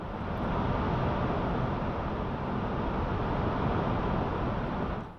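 A steady broadband noise bed layered under a Serum synthesizer pad, a smooth hiss-like wash that holds at an even level for about five seconds before cutting off, with no other sounds over it.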